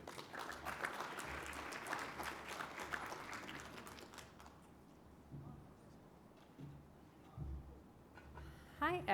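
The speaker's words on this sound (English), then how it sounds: "Please, big round of applause" Conference attendees at Maximum Occupancy Australia 2024 clap as a Google speaker comes on stage, a moderate burst that fades after about four seconds, leaving quiet room sounds and a voice starting to speak.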